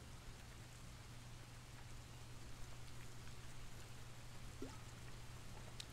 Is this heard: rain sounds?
yes